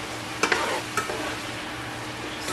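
Beef liver for Jamaican brown stew sizzles quietly in a pot, a soft continuous fry broken by a few sharp scraping stirs near the start and end, with no talking.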